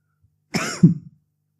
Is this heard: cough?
yes